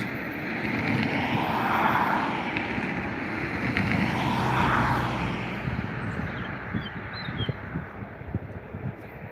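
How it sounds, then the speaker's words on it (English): Airliner jet engines spool up as an Airbus training flight to Cardiff begins its takeoff roll at Dublin Airport, a broad steady roar that swells twice and then gradually fades into the distance. "The training flight to Cardiff has now begun its takeoff roll"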